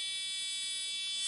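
A doorbell buzzer built in a Squishy Circuits kit gives a continuous, loud, high electronic tone that holds steady throughout with no break.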